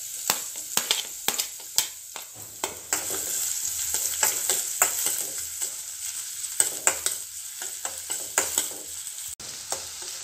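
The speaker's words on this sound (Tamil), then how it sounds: "நம்ம நறுக்கி வச்சுருக்கிற பல்லாரியை இப்போ இதோட சேர்த்து நல்லா வதக்கிக்கலாம்" Sliced big onions go into a pan with garlic already fried in oil, sizzling steadily while a spoon stirs and scrapes in repeated sharp clacks against the pan, close and without voices.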